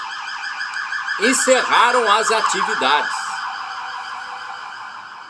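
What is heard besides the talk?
police car sirens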